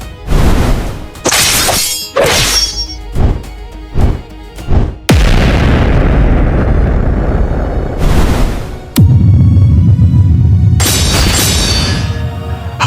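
A barrage of anime-style attack explosions: a run of sharp shattering blasts and booms, then a sustained roaring rumble with more heavy impacts, loud and dense throughout with no talking.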